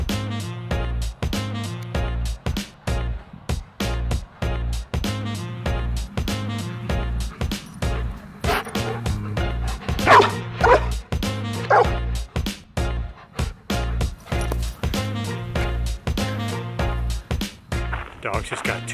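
A golden retriever barks in a quick, steady run of loud, close yips and woofs that repeat for nearly twenty seconds with hardly a pause.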